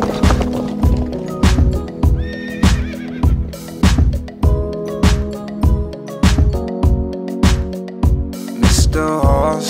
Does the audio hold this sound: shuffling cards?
no